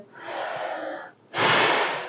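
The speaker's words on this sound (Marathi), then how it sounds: "श्वास घेतोय" Forceful breathing during agnisar kriya yoga exercise, a long airy inhale through the nose followed by a stronger, louder rushing exhale, close and clear with no talking.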